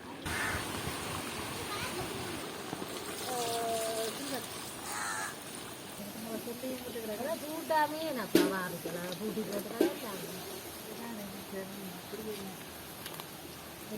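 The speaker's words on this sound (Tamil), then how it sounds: "காகம் வந்து நிக்குது." A crow caws a few times at a distance in a village in Jaffna, Sri Lanka, faint under people talking nearby and steady background hiss.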